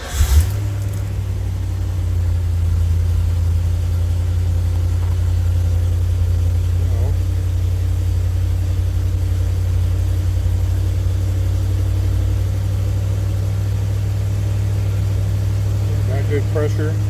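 A car engine idles steadily while warming up, a constant low hum close by that holds evenly throughout with a brief burst of noise at the start.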